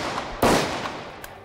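A single sharp blank shot from a Glock 17 pistol cracks loudly, followed by a short decaying echo in an otherwise quiet outdoor setting.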